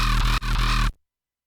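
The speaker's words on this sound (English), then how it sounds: "what if I put the crow sounds in the bass sounds?" Gritty drum and bass synth bass made in Ableton, vocoded with crow calls, plays a short, loud, buzzing rhythmic burst with a brief dip midway before stopping abruptly.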